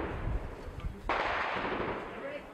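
A sudden sharp blast of gunfire or shelling in Shyrokyne cracks out mid-clip and leaves a rumbling, noisy tail, with a voice and background noise around it.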